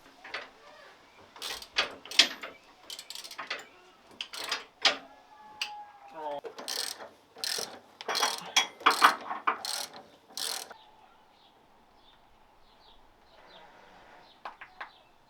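Short bursts of ratcheting clicks come from a hand ratchet tightening bolts on the rear shocks and spring retainers of a custom off-road suspension, repeated in quick spurts with pauses, fairly close and alone.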